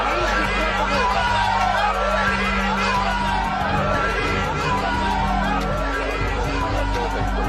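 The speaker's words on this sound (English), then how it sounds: "Outside the hospital, the crowd began to chant" Large crowd outside a hospital in a dense, continuous roar of chatter and voices, steady and loud throughout, with a low rumble underneath.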